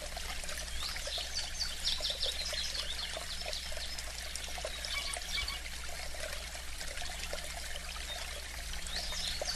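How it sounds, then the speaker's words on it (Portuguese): A small clear stream runs through a forest, a steady soft trickle and babble of water, faint and continuous, with occasional bird calls in the background. "com um córrego ao seu lado, um rio pequeno de águas claras e bonitas"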